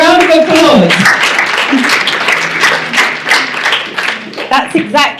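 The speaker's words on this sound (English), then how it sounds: "And yes, round of applause." An audience at a conference opening session bursts into applause, mixed clapping under excited voices and cheering that fades into scattered claps.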